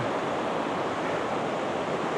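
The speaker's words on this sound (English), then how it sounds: "This is the canyon. And this is the river below." A river flowing through a canyon far below, heard as a steady, dense rush of water with no breaks, loud and broadband, alone without voices.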